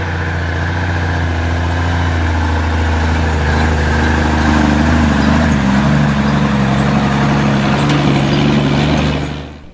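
An old truck engine idles steadily up close, a deep, rough low rumble that holds even and loud throughout with no voices over it.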